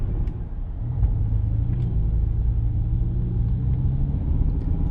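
A BMW E60 M5's engine and exhaust idle through a cold warm-up, a deep steady rumble close by with a slight rise in pitch after the first second, then holding even.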